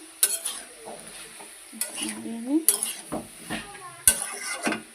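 Vegetables sautéing in a pan with cumin, chilli and turmeric powder, a low sizzle under repeated close metallic scrapes and clanks of a ladle stirring against the vessel.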